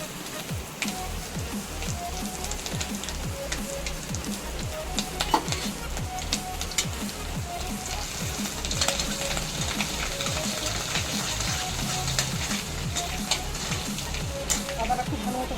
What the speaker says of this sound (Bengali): দেখুন তেলটা গরম, কালো জিরেটা ভাজা হয়ে গেছে। দিয়ে দিচ্ছি আদা,